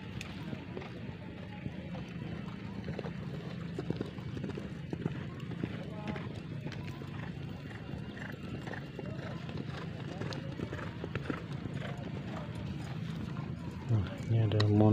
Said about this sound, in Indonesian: Banyak sekali kuda yang sudah mulai berlatih